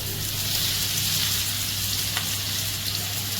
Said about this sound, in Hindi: इसमें हम डाल देते हैं गार्लिक, सौटे करते हैं गार्लिक को